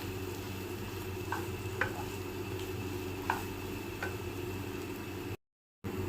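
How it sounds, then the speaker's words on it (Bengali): Mashed green banana bhorta being mixed by hand or spoon, a steady soft squishing stir with a handful of faint ticks and clicks over a constant low background hum. "এরপর ভালোভাবে মিশিয়ে নেব সবগুলো একসাথে।"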